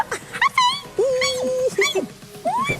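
A big dog outdoors at an RV expo gives loud, close high whines, yips and drawn-out whimpering cries in quick succession, with no speech over it.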